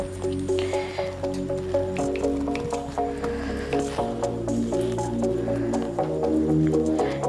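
Grated bottle gourd and rice flour dough squelches wetly as it is kneaded firmly by hand, soft repeated squishes over steady background music.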